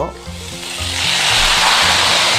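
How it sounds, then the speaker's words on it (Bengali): Chicken pieces dropped into hot spice paste with garlic in a pan for a Bengali chicken and potato curry, setting off a sharp sizzle that rises and spreads into steady, loud frying hiss, close up with no talking. "এবার আমাদের যে চিকেন পরিষ্কার করে রেখেছিলাম সেই চিকেনটা এই মশলাটার ভিতরে চিকেনটাকে ছেড়ে দেব"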